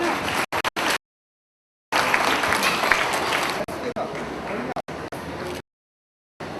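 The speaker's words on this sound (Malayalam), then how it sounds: "കയ്യടി പോരാട്ടോ." An audience at a children's fest prize announcement claps for the winners in a dense burst of applause, broken by short silent cuts and mixed with a speaking voice.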